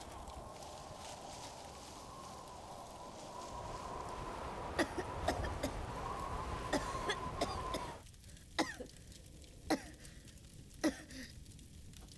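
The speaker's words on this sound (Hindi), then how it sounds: "तुम्हारी खांसी बढ़ती जा रही है।" A person coughs repeatedly in an emergency, a series of sharp, separate coughs spaced a second or so apart, getting louder and more distinct toward the end over a rough background noise.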